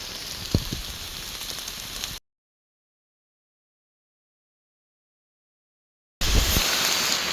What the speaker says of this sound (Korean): 지금 비가 옥수같이 쏟아집니다